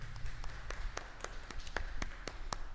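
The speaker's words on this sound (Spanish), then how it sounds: "Un fuerte aplauso a la palabra del Señor" Scattered hand claps ring out in a church congregation after a Gospel reading, a thin, uneven patter of separate claps rather than a full ovation, fairly quiet and slightly reverberant.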